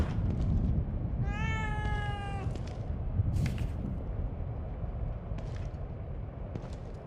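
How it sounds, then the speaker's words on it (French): A cat meows once in the horror video game The Evil Within 2, a drawn-out cry rising over dark ambient game music and rumble, with faint scattered noises afterward. "Un chat?"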